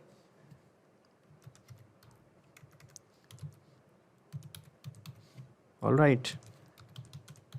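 Keys click in quick, uneven bursts on a keyboard as a name is typed into an online event registration form, with a short spoken remark near the end.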